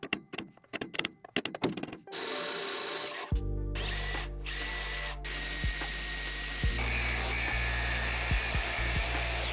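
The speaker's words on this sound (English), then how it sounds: "now I'm just marking my holes that I need to drill in the frame" A power drill boring holes into a metal van frame, with a few sharp knocks first and then a loud, close, continuous whine that rises in pitch as it works through the metal, without talk.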